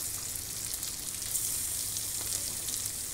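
Chili dropped into a pan of hot oil for a jackfruit and anchovy stir-fry sizzles steadily, a close, soft and even fry with no talk.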